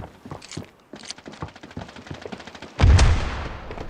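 Tec-9 fire in a Counter-Strike match: a run of sharp, quick single shots and short bursts at moderate distance, ending in one loud, heavy close blast followed by a decaying tail.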